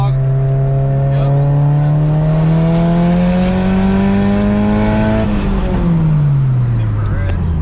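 A coupe accelerates hard in third gear, its engine note climbing steadily and loudly for about five seconds before the revs drop off, heard from inside the car with a voice briefly speaking.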